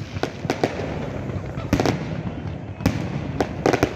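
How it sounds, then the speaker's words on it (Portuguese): Fireworks display at a city park reopening in Guanambi, Bahia: repeated sharp bangs and crackles, some in quick clusters, moderately distant over crowd noise, with voices in the background. "Queima de fogos, pessoal."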